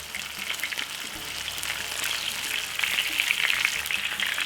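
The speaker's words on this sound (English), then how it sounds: "And fry it crispy." Bread-crumbed fish pieces frying in hot oil, a steady close crackling sizzle that grows slightly louder partway through, with no talking.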